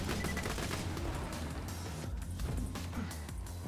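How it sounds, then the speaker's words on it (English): Sustained rapid gunfire from the Infinity pistol in the shooter game Borderlands 2, a dense, loud stream of shots running continuously through the whole stretch with no talking. "Might as well just kill him with the Infinity, another iconic weapon."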